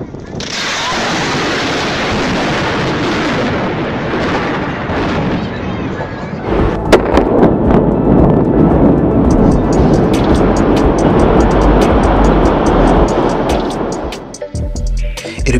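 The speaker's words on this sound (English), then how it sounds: "compare the sound of the demolition charges and the sound of the building falling to" Demolition charges fire and a building collapses, a long loud rumbling roar that swells into a denser run of rapid cracks and bangs before thinning toward the end, heard from a distance.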